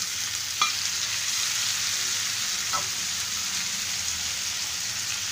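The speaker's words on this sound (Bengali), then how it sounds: "এই পর্যায়ে টমেটো দিয়ে দিচ্ছি।" Chopped tomatoes go into onions frying in a pan for butter chicken, giving a soft, steady sizzle close by, broken by a couple of light knocks against the pan, with no voices.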